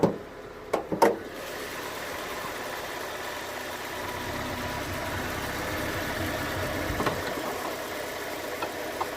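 A Ford Ka 1.2 Limited Edition engine with a misfire idles steadily, a low uneven rumble with irregular puffing from the exhaust, opening with a few sharp knocks and clanks nearby.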